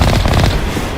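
A vehicle-mounted cannon fires in the video game Mass Effect: Legendary Edition, giving a single loud, close, booming and crackling blast that fills the whole moment.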